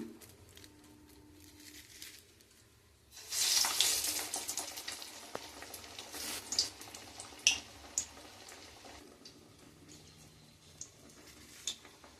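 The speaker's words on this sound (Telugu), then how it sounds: "ఆయిల్ హీట్ అయిందండి బొబ్బరి వాళ్ళు వేసుకుందాము" Cowpea vadas go into hot oil and set off a sudden loud hiss that settles into a steady, fainter sizzle with scattered pops and crackles, close up and with no voices.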